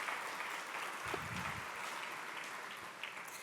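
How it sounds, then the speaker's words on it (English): An audience at a speaker series on zoning in Santa Fe applauds in a steady, even patter of many hands. The clapping sounds fairly faint and distant and runs without a break. "Let's give them all a round of applause."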